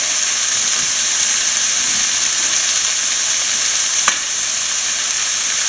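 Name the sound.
scrambled egg frying in chicken fried rice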